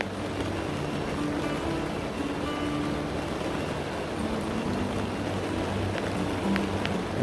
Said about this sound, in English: It's cold. It's that cold, nasty rain.